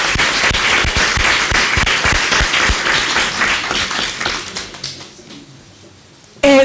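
An audience applauds at a gathering in Morra De Sanctis, Avellino: dense, loud clapping fills the room, then thins and fades over several seconds into scattered claps before a short, sharp burst of noise at the very end.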